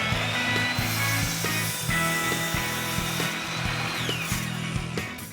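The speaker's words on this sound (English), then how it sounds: "I'm going to cut all 5 boards at once" A power saw cuts through five wooden batten boards stacked together, a steady close whine broken by repeated rhythmic chattering bursts as the blade bites the wood.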